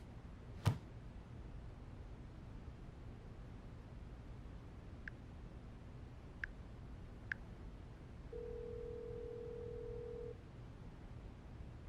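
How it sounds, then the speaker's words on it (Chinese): A telephone call being placed: a sharp click, then three short dial beeps spaced a second or so apart, followed by a single steady ringing tone lasting about two seconds over quiet room hiss. "我现在就要打电话给坎迪"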